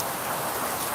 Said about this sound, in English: some people do like the sound of rain